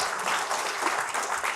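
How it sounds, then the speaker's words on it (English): Debate audience applause, a dense wash of many hands clapping steadily throughout, moderately loud with no talk over it. "Round of applause."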